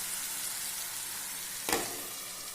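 Sliced raw banana frying in a pan as the water cooks off produces a dense, steady sizzle, interrupted once by a brief sharp clatter partway through.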